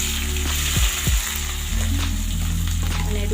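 Capsicum and onion sizzle steadily in a hot pan with turmeric and chilli powder, a continuous frying hiss joined by a few low knocks and clatters of stirring.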